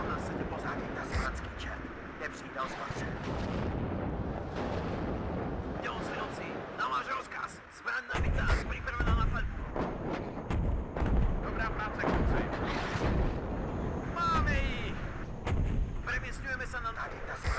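Artillery batteries firing in the WARNO strategy video game, repeated heavy booming blasts and rumbling impacts layered over a continuous battle din, with someone talking throughout.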